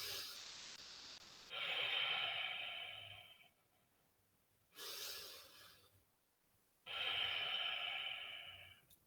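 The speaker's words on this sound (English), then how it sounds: "It's closing your mouth and nose breathing." Slow nasal breathing with the mouth closed during a breathwork demonstration, three long airy breaths separated by quiet pauses, close and soft with no talking.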